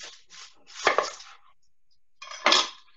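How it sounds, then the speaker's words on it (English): Knife slices down through an onion on a cutting board: a few sharp chopping knocks, two clustered near the start and one after a pause, close and moderately loud. "we'll come right down the middle of this onion"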